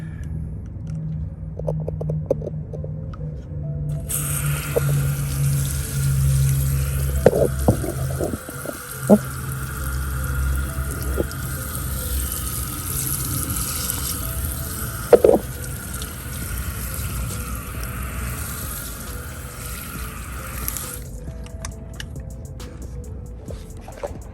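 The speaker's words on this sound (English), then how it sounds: "I'm gonna show you the first rinse" Water spray rinsing cleaning product off car tires during detailing, a steady broadband hiss running for most of the stretch with low rumble beneath and a few faint knocks, no talking.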